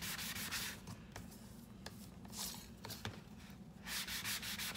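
Rough shims are sanded smooth by hand, a steady, close rasping scrape with repeated back-and-forth strokes and no talking.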